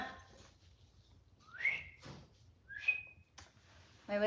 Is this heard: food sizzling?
no